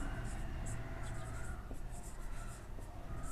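Pen scratching on paper while working a class 10 maths probability problem, a series of short close strokes under a teacher's steady explanatory talk.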